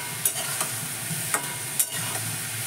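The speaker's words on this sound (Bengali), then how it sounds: "আর এই লাউটাকে দিয়ে কষানো হচ্ছে।" Bottle gourd sautéing in oil seasoned with five-spice, a close sizzle broken by four sharp scraping strokes of a spatula at uneven intervals.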